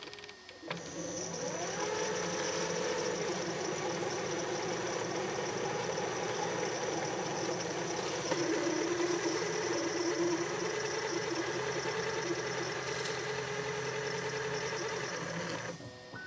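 A Bambu Lab X1C AMS unit with grinding problems unloads a filament spool, giving a steady, close mechanical whir and motor drone that runs without a break for about fifteen seconds, with no voices.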